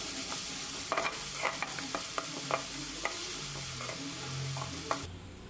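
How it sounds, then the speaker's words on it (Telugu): Ginger-garlic paste fries in hot oil for a fish curry, a steady sizzle broken by repeated scraping spoon strokes against the pan, close and clear with no talking. "స్పూన్నర అల్లం వెల్లుల్లి పేస్ట్ను వేసి ఇది కూడా పచ్చి వాసన పోయే వరకు వేయించండి."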